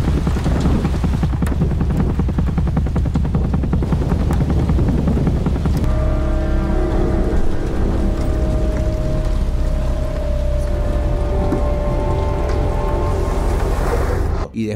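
Steady rain in a film scene, a dense hiss that runs through the whole stretch with a low music drone and sustained tones rising beneath it partway through.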